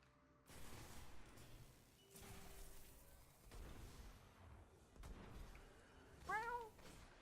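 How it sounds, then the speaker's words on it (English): A house cat meows once, briefly and faintly, in the background, behind sustained gunfire and explosions from the shooter game Destiny. "I'm sorry, my cat's just meowing in the background."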